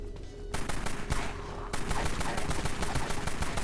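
An XAK rifle with a 100-round magazine fires in the video game Dead Frontier, loud rapid bursts of automatic gunfire in quick regular rhythm, nearly continuous across the clip.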